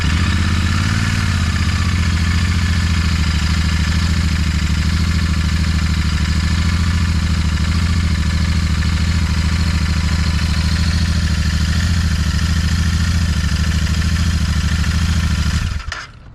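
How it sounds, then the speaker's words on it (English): Royal Enfield Continental GT650 twin motorcycle engine running after its first service and valve adjustment, a loud steady close idle with a mechanical clatter that cuts off abruptly at the end. "I'm going to start the bike up after we put the filler cap back on and see where the level's at"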